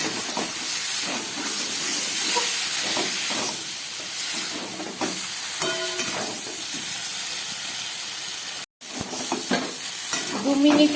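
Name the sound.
stir-frying boiled lentils and rice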